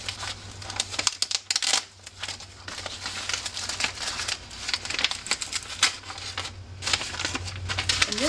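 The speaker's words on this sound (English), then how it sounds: "So I'll go ahead and unwrap this." Plastic wrapping on a portable display package crinkles and rustles in uneven bursts as it is unwrapped close by, with a low steady hum underneath.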